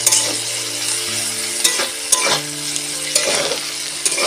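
Chowmein with egg and potato being stir-fried in a home kitchen pan, a steady close sizzle broken by several sharp scraping stirs, with no talking.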